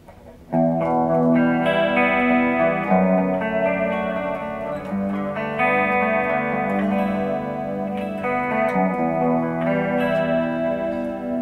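Sustained electric guitar chords through a Guyatone MCm5 chorus pedal set to sine wave, with a shimmering, wavering effect, played loud and smooth for several seconds with no talking.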